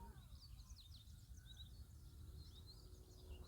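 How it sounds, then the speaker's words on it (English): Birds chirp and sing faintly in the distance over a steady low background rumble, heard during a quiet countryside walk in Thigio, Kiambu County. "You can hear birds."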